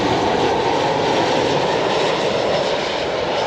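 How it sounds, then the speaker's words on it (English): A Southwest Boeing 737 comes in to land at BWI airport, its jet engines giving a steady, loud roar that holds at the same level throughout, with no voices. "we're seeing a Southwest airplane come in."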